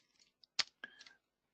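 A computer mouse clicks a few times in quick, irregular succession: faint, close, dry taps with short silences between them and no other sound.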